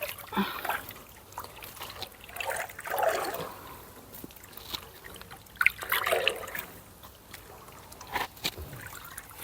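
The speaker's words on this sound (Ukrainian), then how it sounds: "Напор слабенький щось води." A weak stream of water from a tap fed by a pump in a village yard, an intermittent splashing trickle that rises and falls in small bursts, close by, with quiet outdoor background.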